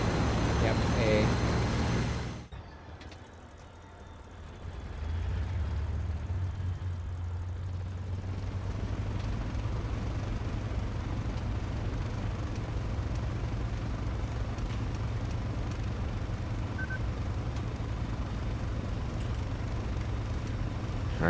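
A P-47D-28 fighter's piston engine idles and rumbles steadily while taxiing in a flight simulator game, a low continuous drone that begins after a brief cut and holds at an even level under occasional talk.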